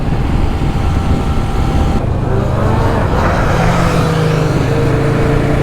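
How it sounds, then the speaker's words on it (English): Riding a Yamaha Niken, a three-wheeled 850cc three-cylinder motorcycle: a loud, steady onboard roar of wind and engine drone runs continuously with no pauses. "you forget you're riding a bike with 3 wheels"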